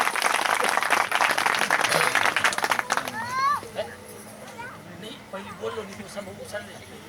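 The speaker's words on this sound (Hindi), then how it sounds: "जोरदार तालियों के साथ स्वागत।" Loud applause from the audience at a religious discourse gathering, clapping for about three seconds along with cheers, then dying away into murmuring crowd chatter and scattered voices.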